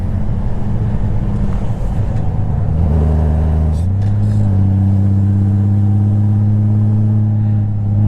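A Honda motorcycle engine drones loudly with a steady low hum while riding with the helmet visor open. Heavy rushing wind buffets the microphone, and the engine pitch steps up partway through as if shifting or accelerating.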